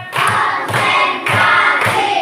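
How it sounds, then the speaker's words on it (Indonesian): A class of children in a classroom chant a counting clap rhyme together, their voices marking four rhythmic bursts with hand claps and thumps beneath, loud and close. "tepuk dua, tepuk dua, tepuk tiga, tepuk empat"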